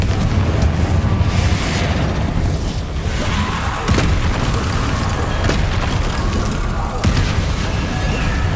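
Repeated Confringo fire-spell blasts from the Hogwarts Legacy video game rumble as booming explosions through continuous loud battle noise, with faint talk mixed in.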